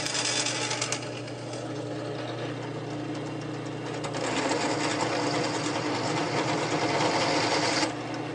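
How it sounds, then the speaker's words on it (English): A drill bit bores countersink chamfers into metal linear glides, a steady motorized whir with grinding cutting noise that runs for about eight seconds and grows louder midway. "I'm going to use an even bigger drill and just use the tip of it to chamfer out that edge."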